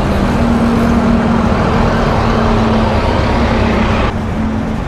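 Street traffic on Hanover Street in Edinburgh, a loud, continuous engine rumble from passing vehicles with a steady drone, easing slightly near the end, no talk.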